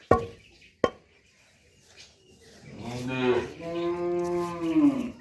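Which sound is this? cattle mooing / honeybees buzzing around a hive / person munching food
cattle mooing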